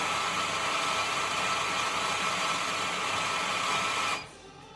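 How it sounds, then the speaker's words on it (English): Compact E5 espresso grinder grinds coffee beans in one continuous, loud whirring burst of about four seconds, then stops abruptly, leaving a quiet room. "So I want 18 grams of coffee, which on this grinder is about 5 seconds."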